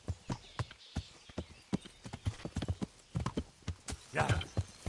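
The hooves of Pebbles, a horse in the video game Kingdom Come: Deliverance, clop in an uneven trotting rhythm, with a short breathy, whinny-like sound near the end.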